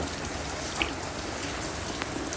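Steady rain falls outdoors, a dense, even hiss of drops hitting the surface, fairly faint, with a couple of sharper splashes standing out and no voices.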